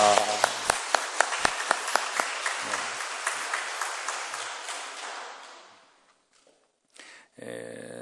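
A church congregation at a Sunday worship service applauds to welcome a pastor, dense steady clapping that fades out after about six seconds, with a brief sound afterward.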